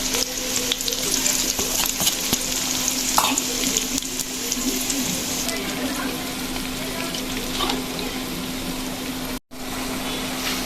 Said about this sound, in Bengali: পেঁয়াজ বাটা, পেঁয়াজ কুচিও দিলাম, পেঁয়াজ বাটাও দিলাম।